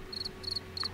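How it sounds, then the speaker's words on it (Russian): Crickets chirping in three evenly spaced, high, thin trilling bursts, steady and fairly close against a quiet low hum. "Блин, сейчас звука сверчков не хватает"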